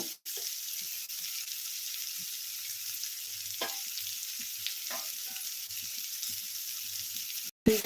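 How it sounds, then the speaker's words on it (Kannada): Dry fish frying in a pan gives a steady, close hiss of sizzling oil with occasional stirring scrapes, alone and without talk. "ಚೆನ್ನಾಗಿ ಸ್ಮ್ಯಾಶ್ ಆಗೋವರೆಗೂ ನಾವು ಫ್ರೈ ಮಾಡ್ಕೊಳ್ಳೋಣ"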